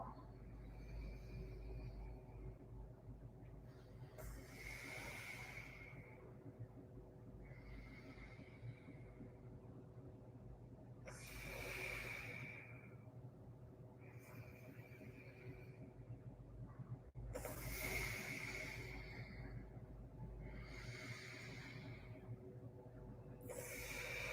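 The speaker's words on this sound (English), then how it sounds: "Inhale left. Close it off. Exhale right." Alternate nostril breathing exercise: slow, quiet breaths drawn in and pushed out through the nose in long, evenly spaced cycles over a faint steady background hum.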